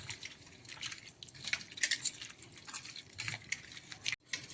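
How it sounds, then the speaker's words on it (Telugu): Soaked tamarind, tomato, coriander and curry leaves are squished by hand in water for pepper rasam, giving wet, irregular squelching and dripping splashes at close range, with louder bursts in the middle. "చింతపండు, టమాటా, ఇంకా కొత్తిమీర కరివేపాకు అంతా ఈ వాటర్లో స్మాష్ చేసేసుకోవాలి ఇలా మంచిగా"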